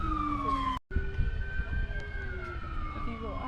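A 1941 Montana police car in a Fourth of July parade sounds its siren, a wailing tone gliding up and down, briefly cut off, then resuming at moderate distance over crowd noise.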